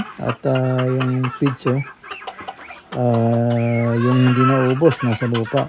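Farmyard chickens being fed cluck loudly and repeatedly close by in long drawn-out calls, while someone talks over and between them.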